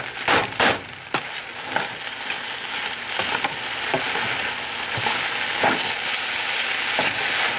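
Singapore mei fun rice noodles being stir-fried with eggs, a loud close sizzle joined by scraping and tossing strokes early on, settling into a steady hiss.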